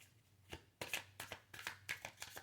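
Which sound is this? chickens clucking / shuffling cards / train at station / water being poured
shuffling cards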